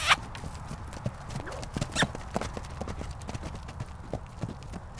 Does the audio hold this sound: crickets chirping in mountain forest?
no